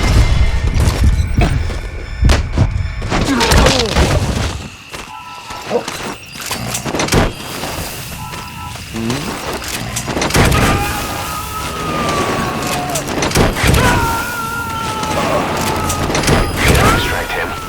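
Metal Gear Solid 5 gameplay with bursts of gunfire and heavy booming explosions, loud and close, mixed with engine and siren-like tones and a game voice calling out.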